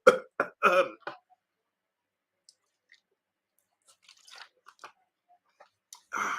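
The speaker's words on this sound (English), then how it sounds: "let me clear my throat." A few close, rough throat-clearing bursts up front, followed by near silence and some faint mouth noises and small rustles.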